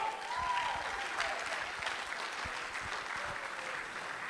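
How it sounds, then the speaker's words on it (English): Steady, full applause from a dinner audience at a Piqua Arts Council dance performance fills the room evenly from start to finish, with a faint murmur of the crowd underneath. "Give them a big round of applause, please."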